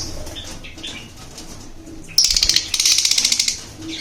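Yellow and green Fischer's lovebirds at a bird sale give high, shrill chattering calls, then a sudden close burst of wing flapping and rapid squeaky calls, with no talk.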